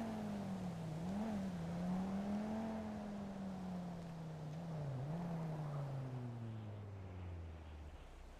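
A slow car's engine drones steadily during driving in a roleplay video game, a continuous low hum with small pitch dips and swells, fairly loud and without talk.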